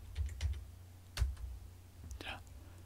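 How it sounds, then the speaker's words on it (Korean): A few light keyboard key presses, Shift and Page Down on a computer, click close by in a short, uneven burst, with quiet room noise between them. "Shift 키 누르고 페이지 다운 키를 눌려서"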